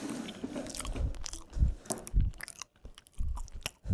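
Close, soft crunchy bites and chewing of a banana, several separate bites in an irregular rhythm, quiet and alone.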